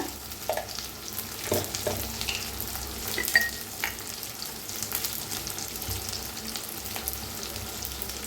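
Onion, tomato, garlic and ginger frying together in a pan, a low continuous sizzle with scattered stirring knocks and scrapes, moderately quiet and steady, no voices.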